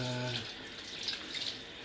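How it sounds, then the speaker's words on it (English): Warm water runs from a tap into a sink, a soft continuous splashing hiss with faint low hum at the start, fairly quiet and steady throughout. "just try and get some warm water"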